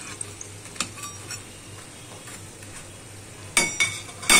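Donuts frying in hot oil with a faint background sizzle, punctuated by a few sharp clinks and scrapes of a utensil against the pan, near and without talk.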